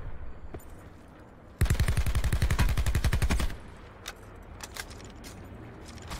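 Rapid automatic gunfire in the video game Call of Duty: Blackout, a dense two-second burst of close, loud shots followed by a few scattered faint clicks and pops over low background noise.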